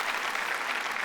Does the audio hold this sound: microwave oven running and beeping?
no